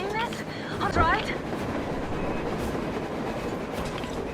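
A train rolling along rails on the surface in Metro Exodus, a dense rumbling clatter that stays steady and fairly loud, with brief voice-like chirps early on.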